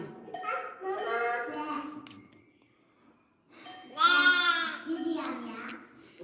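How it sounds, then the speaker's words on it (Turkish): Newly lambed sheep on a farm, bleating in several loud, close calls with pauses between them, while people talk nearby in the gaps. "Evet bunlar yeni kuzulayan koyunlarımız."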